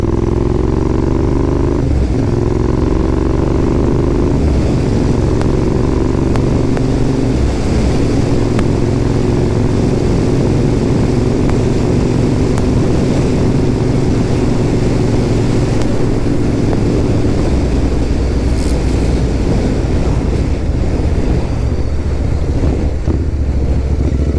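Royal Enfield Interceptor motorcycle ridden on the A14: a loud, continuous engine drone that shifts pitch as it revs and changes gear, mixed with heavy wind buffeting on the microphone and no talking.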